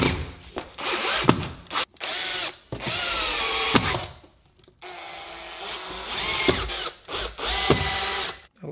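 A power drill drives screws during a weather stripping installation, running in several bursts of whirring with short pauses between them, close and loud, with no voices.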